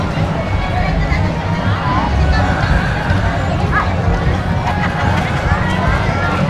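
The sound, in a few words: crowd babble at Dinagyang festival street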